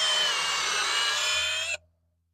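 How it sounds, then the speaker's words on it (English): A power drill bores through wood into metal beneath while mounting deck boards: a steady high whine with grinding under it, loud and close, running for under two seconds before cutting off abruptly to silence. "if I pre-drill through the wood, it just keeps it from getting gunked up and just goes into the metal a little bit easier"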